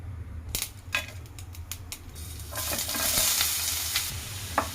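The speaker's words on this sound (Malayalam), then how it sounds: "ഇത്തിരി കടുകിട്ട് കൊടുക്കാം." Mustard seeds popping and crackling in hot coconut oil, with sharp scattered pops over a low sizzle that swells midway, plus a few spoon clinks against the pan.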